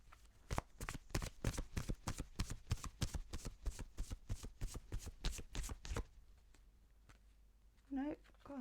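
A deck of oracle cards is shuffled in a fast, rhythmic run of riffling slaps for about six seconds, close and loud, followed by quiet and a brief voice near the end.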